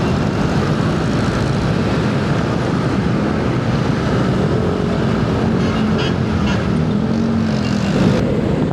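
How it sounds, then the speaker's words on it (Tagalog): Dense road traffic near the Commonwealth roundabout at Doña Carmen, a steady loud roar of many vehicles passing without break, with no voices over it. "Maraming sasakyan."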